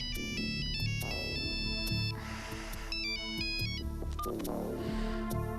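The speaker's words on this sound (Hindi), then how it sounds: "आंसर द फोन राज, वरना वो बार बार डिस्टर्ब करती रहेगी।" A mobile phone ringtone plays steadily and loudly, a repeating electronic melody that continues for several seconds with no talk over it.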